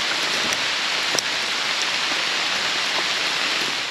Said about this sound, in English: October rain.